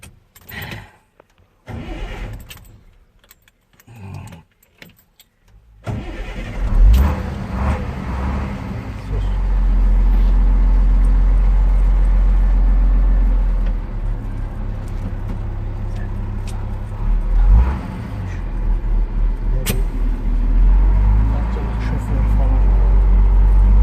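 An orange International (Enter) truck cranks with a few clicks and rattles, then its engine catches and settles into a loud, steady diesel rumble with occasional revving. A voice speaks at the start.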